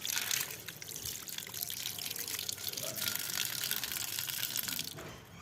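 Water runs steadily from a tap while fish is washed beneath it, a close, continuous splashing rush that cuts off near the end.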